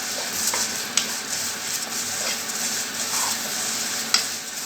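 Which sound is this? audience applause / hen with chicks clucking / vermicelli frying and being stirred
vermicelli frying and being stirred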